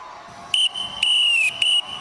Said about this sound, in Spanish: Hizo sonar el silbato.